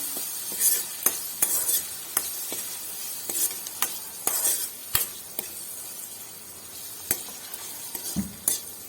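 Onion and tomato stir-frying in oil with turmeric for a brinjal palya, a soft sizzle under frequent sharp spatula scrapes and clicks against the pan, close and irregular, with no talking.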